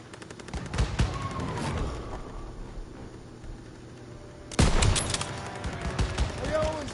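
Rapid bursts of gunfire from a PS4 military shooter game, sharp cracks with a heavy volley kicking in midway, layered over battle noise and shouted squad chatter.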